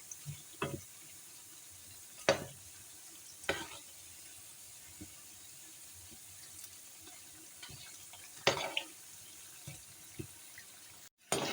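Aloo palak pakoras in oil over a low flame after being turned, a faint continuous sizzle close by, broken by a few sharp scraping and clattering stirs of a utensil, with no talk.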